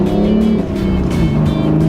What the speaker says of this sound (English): Flatten the throttle at any revs and the thing just darts away, surging on a wave of torque.